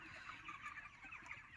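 Broiler chickens on a poultry farm, a faint, steady mass of overlapping clucks and chatter from many birds.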